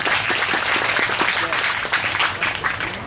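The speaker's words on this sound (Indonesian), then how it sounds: "Tepuk tangan untuk kita semua." Steady audience applause fills a scout leadership training course session, many hands clapping at once, with some voices mixed in beneath the clapping throughout.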